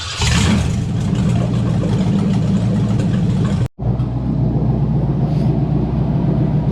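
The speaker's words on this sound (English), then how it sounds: "We're just gonna let it sit here and idle for a while, see how it does." A reinstalled car engine idles at a steady, close-up rumble with an even, continuous hum, broken only by a momentary dropout partway through.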